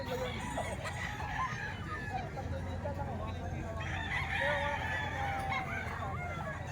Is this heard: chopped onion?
no